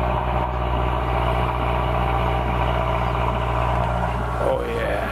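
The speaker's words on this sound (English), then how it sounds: "Listen to that cold exhaust." A car engine idles steadily after a cold start with a low, even exhaust rumble, a voice speaking briefly over it.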